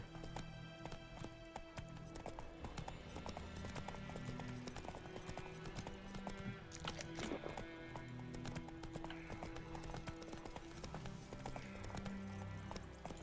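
Hoofbeats of the horse Roach in The Witcher video game, a steady clip-clop gallop running through the whole stretch alongside game music and ambience, with a brief whinny.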